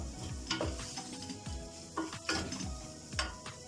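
Sautéing in a pot for vermicelli soup, with a soft continuous sizzle and several spoon scrapes and knocks against the pot at irregular intervals, close by, with no voices.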